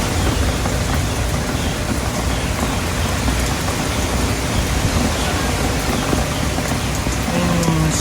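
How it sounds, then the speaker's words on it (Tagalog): Heavy typhoon rain pouring steadily, a dense loud wash of drops hammering surfaces without letup, with no gaps or talking. "And hala, napakalakas ng ulan."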